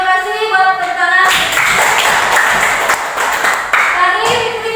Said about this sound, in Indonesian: terima kasih buat tepuk tangan.